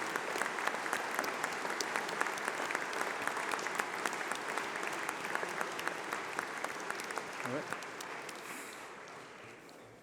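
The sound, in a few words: round of applause for course reps and school presidents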